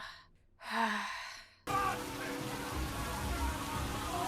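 Steady rain in a seafaring film scene sets in abruptly and keeps falling as an even, hissing downpour, preceded by a brief breathy sigh.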